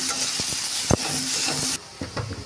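Bhola bhetki fish fries with salt in a pan at lunchtime while being stirred: close sizzling with quick scraping and clattering stir strokes, one sharp knock, and a brief drop in the hiss near the end.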